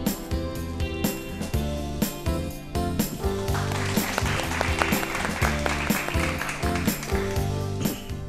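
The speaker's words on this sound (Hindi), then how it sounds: "जोरदार तालियां" Audience applause at a quiz on encephalitis as a prize winner is called up, clapping layered under loud rhythmic music with a steady beat throughout.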